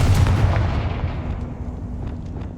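A Confringo fire spell bursts in Hogwarts Legacy with a loud, deep booming blast that rolls out and decays over a couple of seconds, followed by faint crackling debris, with no voices.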